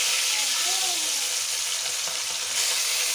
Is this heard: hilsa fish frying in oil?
yes